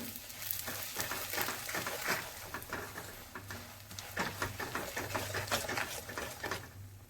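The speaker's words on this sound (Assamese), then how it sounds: "এতিয়া আমি এইখিনি ভালদৰে লৰাই দিম" Coriander powder and dried chillies are stirred in hot oil in a kadai for radish pickle, giving a quiet steady sizzle broken by rhythmic scraping strokes of the spoon.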